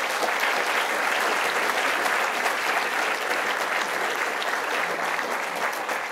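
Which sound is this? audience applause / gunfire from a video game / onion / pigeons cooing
audience applause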